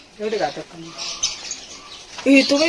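Pigeons at a water park near Shirdi coo and chirp in short, nearby bursts, with faint flutters between calls and some talk mixed in.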